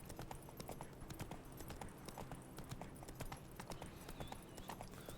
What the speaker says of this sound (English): you can just call your horse just like that